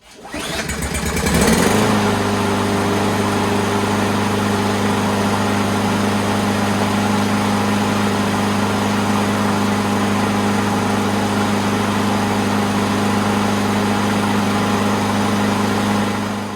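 A Craftsman 163cc Platinum push mower engine starting after a repair, with a brief pull-start rattle and then a steady, loud, close idling drone that holds evenly to the end.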